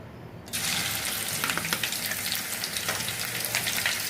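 A spoonful of ginger garlic paste drops into hot oil and bursts into a loud, sudden sizzle after a near-silent half second. The frying hiss then holds steady, with small crackles and spits throughout.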